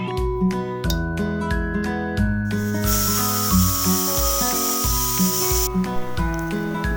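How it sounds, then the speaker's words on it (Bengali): A pressure cooker boiling potatoes lets out a loud, steady hiss of escaping steam lasting about three seconds, heard over continuous background music. "এগুলোকে সব আমি সেদ্ধ করে নেব প্রেসার কুকারে দিয়ে"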